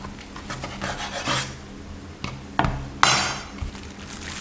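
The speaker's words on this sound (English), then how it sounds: "Cut the mango into half." A knife cutting a mango in half, a series of rasping, scraping cuts with a few sharp knocks against a board, close and moderately loud, with no talking.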